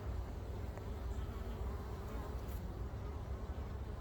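Bees hum in a steady, continuous drone at a winter-insulated beehive, some foragers carrying pollen, the sound close and even throughout with no talking.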